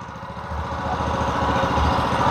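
A multi-purpose soil-throwing, bed-forming tiller runs up close, its small engine chugging in a steady, rapid rhythm that grows slightly louder, with no voices.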